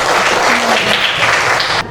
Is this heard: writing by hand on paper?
no